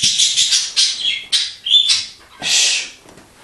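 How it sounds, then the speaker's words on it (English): Birds in a home aviary chirp and squawk in a busy string of sharp, loud, close calls with brief gaps, with no talk. "The birds are doing well and hopefully we'll have the aviary up and running next week."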